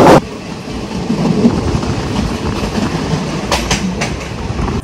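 The 13173 Kanchanjanga Express runs on the rails, a loud, continuous rumble with rhythmic wheel clatter and a few sharp knocks near the end, heard from on board with no voices.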